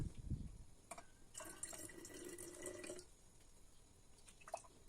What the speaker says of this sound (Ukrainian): лишню воду зільємо